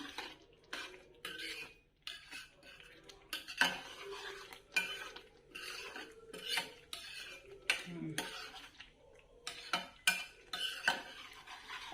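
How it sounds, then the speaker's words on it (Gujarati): A spoon scrapes and knocks against a metal pan at a steady, fairly quiet pace while cashew paneer curry with kasuri methi is stirred, with clinks coming in uneven bursts and no talking. "થોડી કસૂરી મેથી નાખશું થોડી મેથી નાખી અને થોડું હલાવી લેશું"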